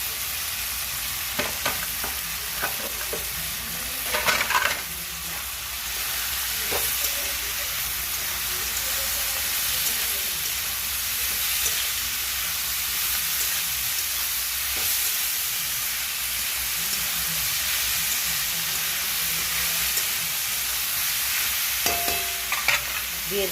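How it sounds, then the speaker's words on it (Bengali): Chopped banana flower (mocha) with chickpeas fries in a hot pan in a home kitchen, a steady close sizzle and hiss running throughout, broken by scraping stirs and occasional clinks of the spoon against the pan. "এবার মোচাগুলো দিয়ে দেবো, একটু হেলে দিয়ে দেবো মোচা দিয়ে।"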